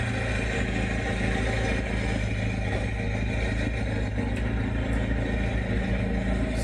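A Harley engine on a rider's motorcycle runs steadily at idle, a continuous low rumble with a dense mechanical clatter, close and loud throughout with no talking.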